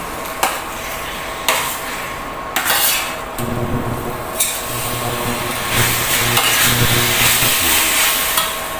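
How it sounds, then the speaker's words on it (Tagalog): Beef sizzles as it fries in a pan, while a utensil stirs and scrapes it in repeated metallic clinks and knocks over a constant loud frying hiss. "para din maging even nga yung pag-turn into brown yung texture ng beef, so kailangan siyang halu-haluin lang"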